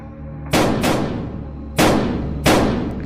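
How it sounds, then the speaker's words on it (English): Gunshots ring out in a forest, with four loud, sharp blasts at uneven intervals, each ringing into a long decaying echo among the trees. "Gunshots rang out through the forest as the other men shot at the creature."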